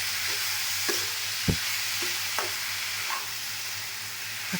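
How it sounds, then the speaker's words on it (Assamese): Leafy greens and tomato frying in a pan, a steady close hiss of sizzling broken by a few light stirring clicks and scrapes, no voices. "অকণমান ভাজি ল'ম এতিয়া।"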